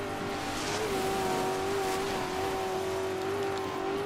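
Race car engine in DiRT 2, a sustained steady high drone of the motor holding pitch while closing on another car, loud and continuous with no talk.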